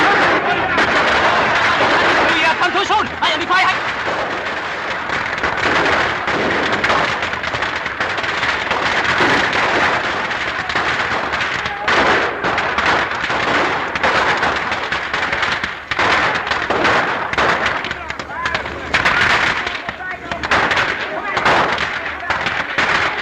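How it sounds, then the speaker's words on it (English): Rapid machine-gun fire from a 1936 film keeps up a dense, loud rattle of overlapping bursts for the whole stretch, with little letup. "Maybe machine gun, huh?"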